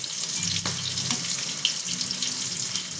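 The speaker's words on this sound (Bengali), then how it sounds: "এবার বেগুনটা ভেজে নেব" Eggplant frying in a pan gives a steady, bright sizzling hiss that holds evenly throughout.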